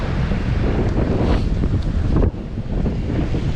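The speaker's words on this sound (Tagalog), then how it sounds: "Sobrang lakas lang po kasi ng hangin dito." Strong wind roars and buffets the microphone continuously, a loud, rough rush with no pauses.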